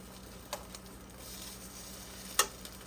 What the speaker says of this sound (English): you're going to want to flip it and cook the other side